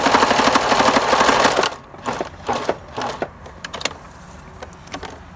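Sewing machine stitching down the pressed pleats of a fabric face mask and then reversing over them, a dense steady rattling run for under two seconds followed by scattered clicks and handling knocks.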